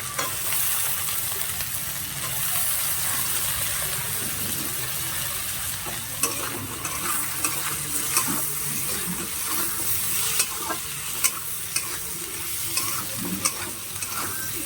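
Chopped potatoes, cabbage and prawns fry in a pan, giving a steady close-up sizzle with scraping and clinking as the mix is stirred.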